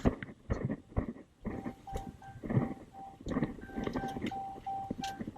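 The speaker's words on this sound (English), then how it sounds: "Close the door to stop the beeping." A Dodge's door-open warning chime repeats steadily at a regular pace, mixed with clunks and handling noises nearby.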